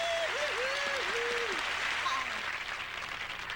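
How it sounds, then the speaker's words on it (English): An audience on the SCTV comedy show applauds guest Bernadette Peters with dense, sustained clapping that fades slightly toward the end, while a whistle-like tone slides up and down over it. "let's have a big round of applause for Miss Bernadette Peters"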